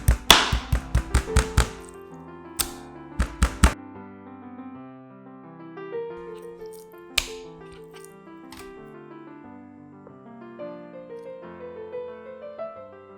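Knife back pounding pork on a kitchen board: a fast burst of sharp, close taps, then a few more strikes a moment later, before melodic background music takes over.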